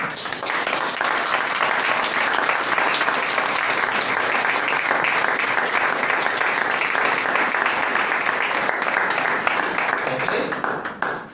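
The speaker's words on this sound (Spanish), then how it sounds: "Denle un aplauso al Señor" Steady, sustained applause from a church congregation fills the whole stretch, dense and even, then tapers off quickly right at the end.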